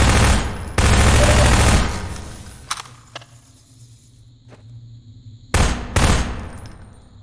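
SMG gunfire in Half-Life 2: Episode Two: a long, loud rapid-fire burst, a few isolated shots, then a second shorter burst near the end.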